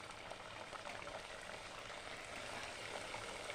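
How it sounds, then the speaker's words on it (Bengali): Papri chaat pieces fry together in hot oil, giving a steady, soft bubbling sizzle that hisses evenly throughout without pauses or speech. "পাপড়ি চাটগুলি এখন ভেজে নেব সবগুলো একসাথে"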